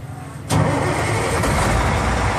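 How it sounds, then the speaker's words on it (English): A trailer truck's engine cranks and catches at about half a second, then runs on as a loud, steady, close diesel rumble with no other sounds. "Let's start my engine."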